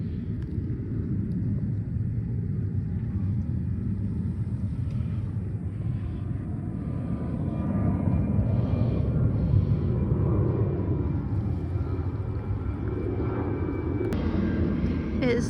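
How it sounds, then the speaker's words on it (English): A fixed-wing airplane passes high overhead near a shoreline at sunset, heard as a steady, broad rumbling drone that swells slightly midway and then holds, distant and fairly loud, with no speech. "It was kind of cool to watch that plane go past the sculpture"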